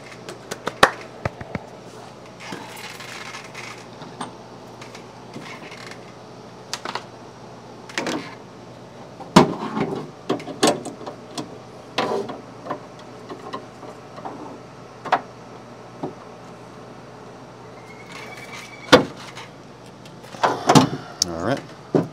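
A bus power window, freshly fitted with a replacement regulator, runs with a faint motor whine amid scattered clicks, knocks and door clatter, while people talk intermittently nearby.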